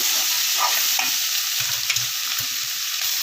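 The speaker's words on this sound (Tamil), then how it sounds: "நல்லா கருவேப்பிலை சேர்த்துக்கலாம் கொஞ்சம் இப்போ நல்லா வதங்கட்டும்" Curry leaves and fried dried fish being sautéed in a pan: a continuous close sizzle with soft scraping stirs every so often and no voices.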